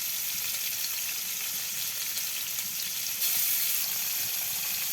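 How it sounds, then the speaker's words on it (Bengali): Onion, green chilli, a bay leaf and ground spice paste frying in oil, a steady close sizzle and hiss that grows briefly louder near the end, with no talk. "তেল দিয়ে দিচ্ছি, পেঁয়াজ, কাঁচামরিচ, একটা তেজপাত, বাটা মশলা দিয়ে দিচ্ছি।"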